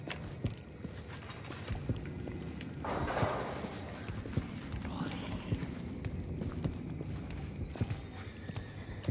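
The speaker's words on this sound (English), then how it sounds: "I hear his footsteps." A creature in the Amnesia Rebirth horror game makes heavy, irregular thudding footsteps that continue throughout amid dense ambient noise, with a person talking over them.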